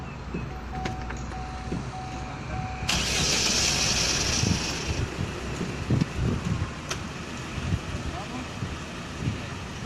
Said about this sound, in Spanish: prender el carro